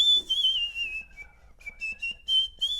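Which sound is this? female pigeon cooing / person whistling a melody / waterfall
person whistling a melody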